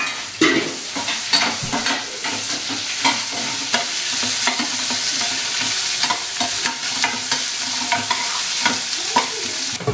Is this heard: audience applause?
no